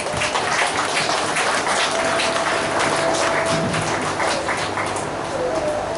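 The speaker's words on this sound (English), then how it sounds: "Give them a round of applause." An audience at a Hindu Hanuman Maha Yagna gathering gives a steady round of applause, even clapping that fills six seconds at moderate loudness.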